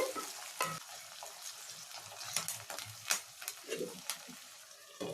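Tomatoes and curry leaves frying in a pan for mutton curry, a steady low sizzle broken by scraping stirs and occasional sharp clinks of a spoon against the pan, fairly quiet and close.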